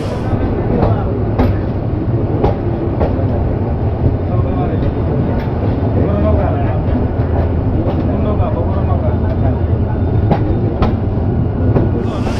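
An Upaban Express train from Dhaka to Sylhet rolls loudly along the tracks, wheels clacking in a steady rhythm with a constant heavy rumble, voices faintly audible.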